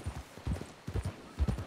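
Horse hooves clip-clop in a Western-themed video game, a close, steady run of soft, hollow low thuds in an uneven trotting rhythm, with no voices over them.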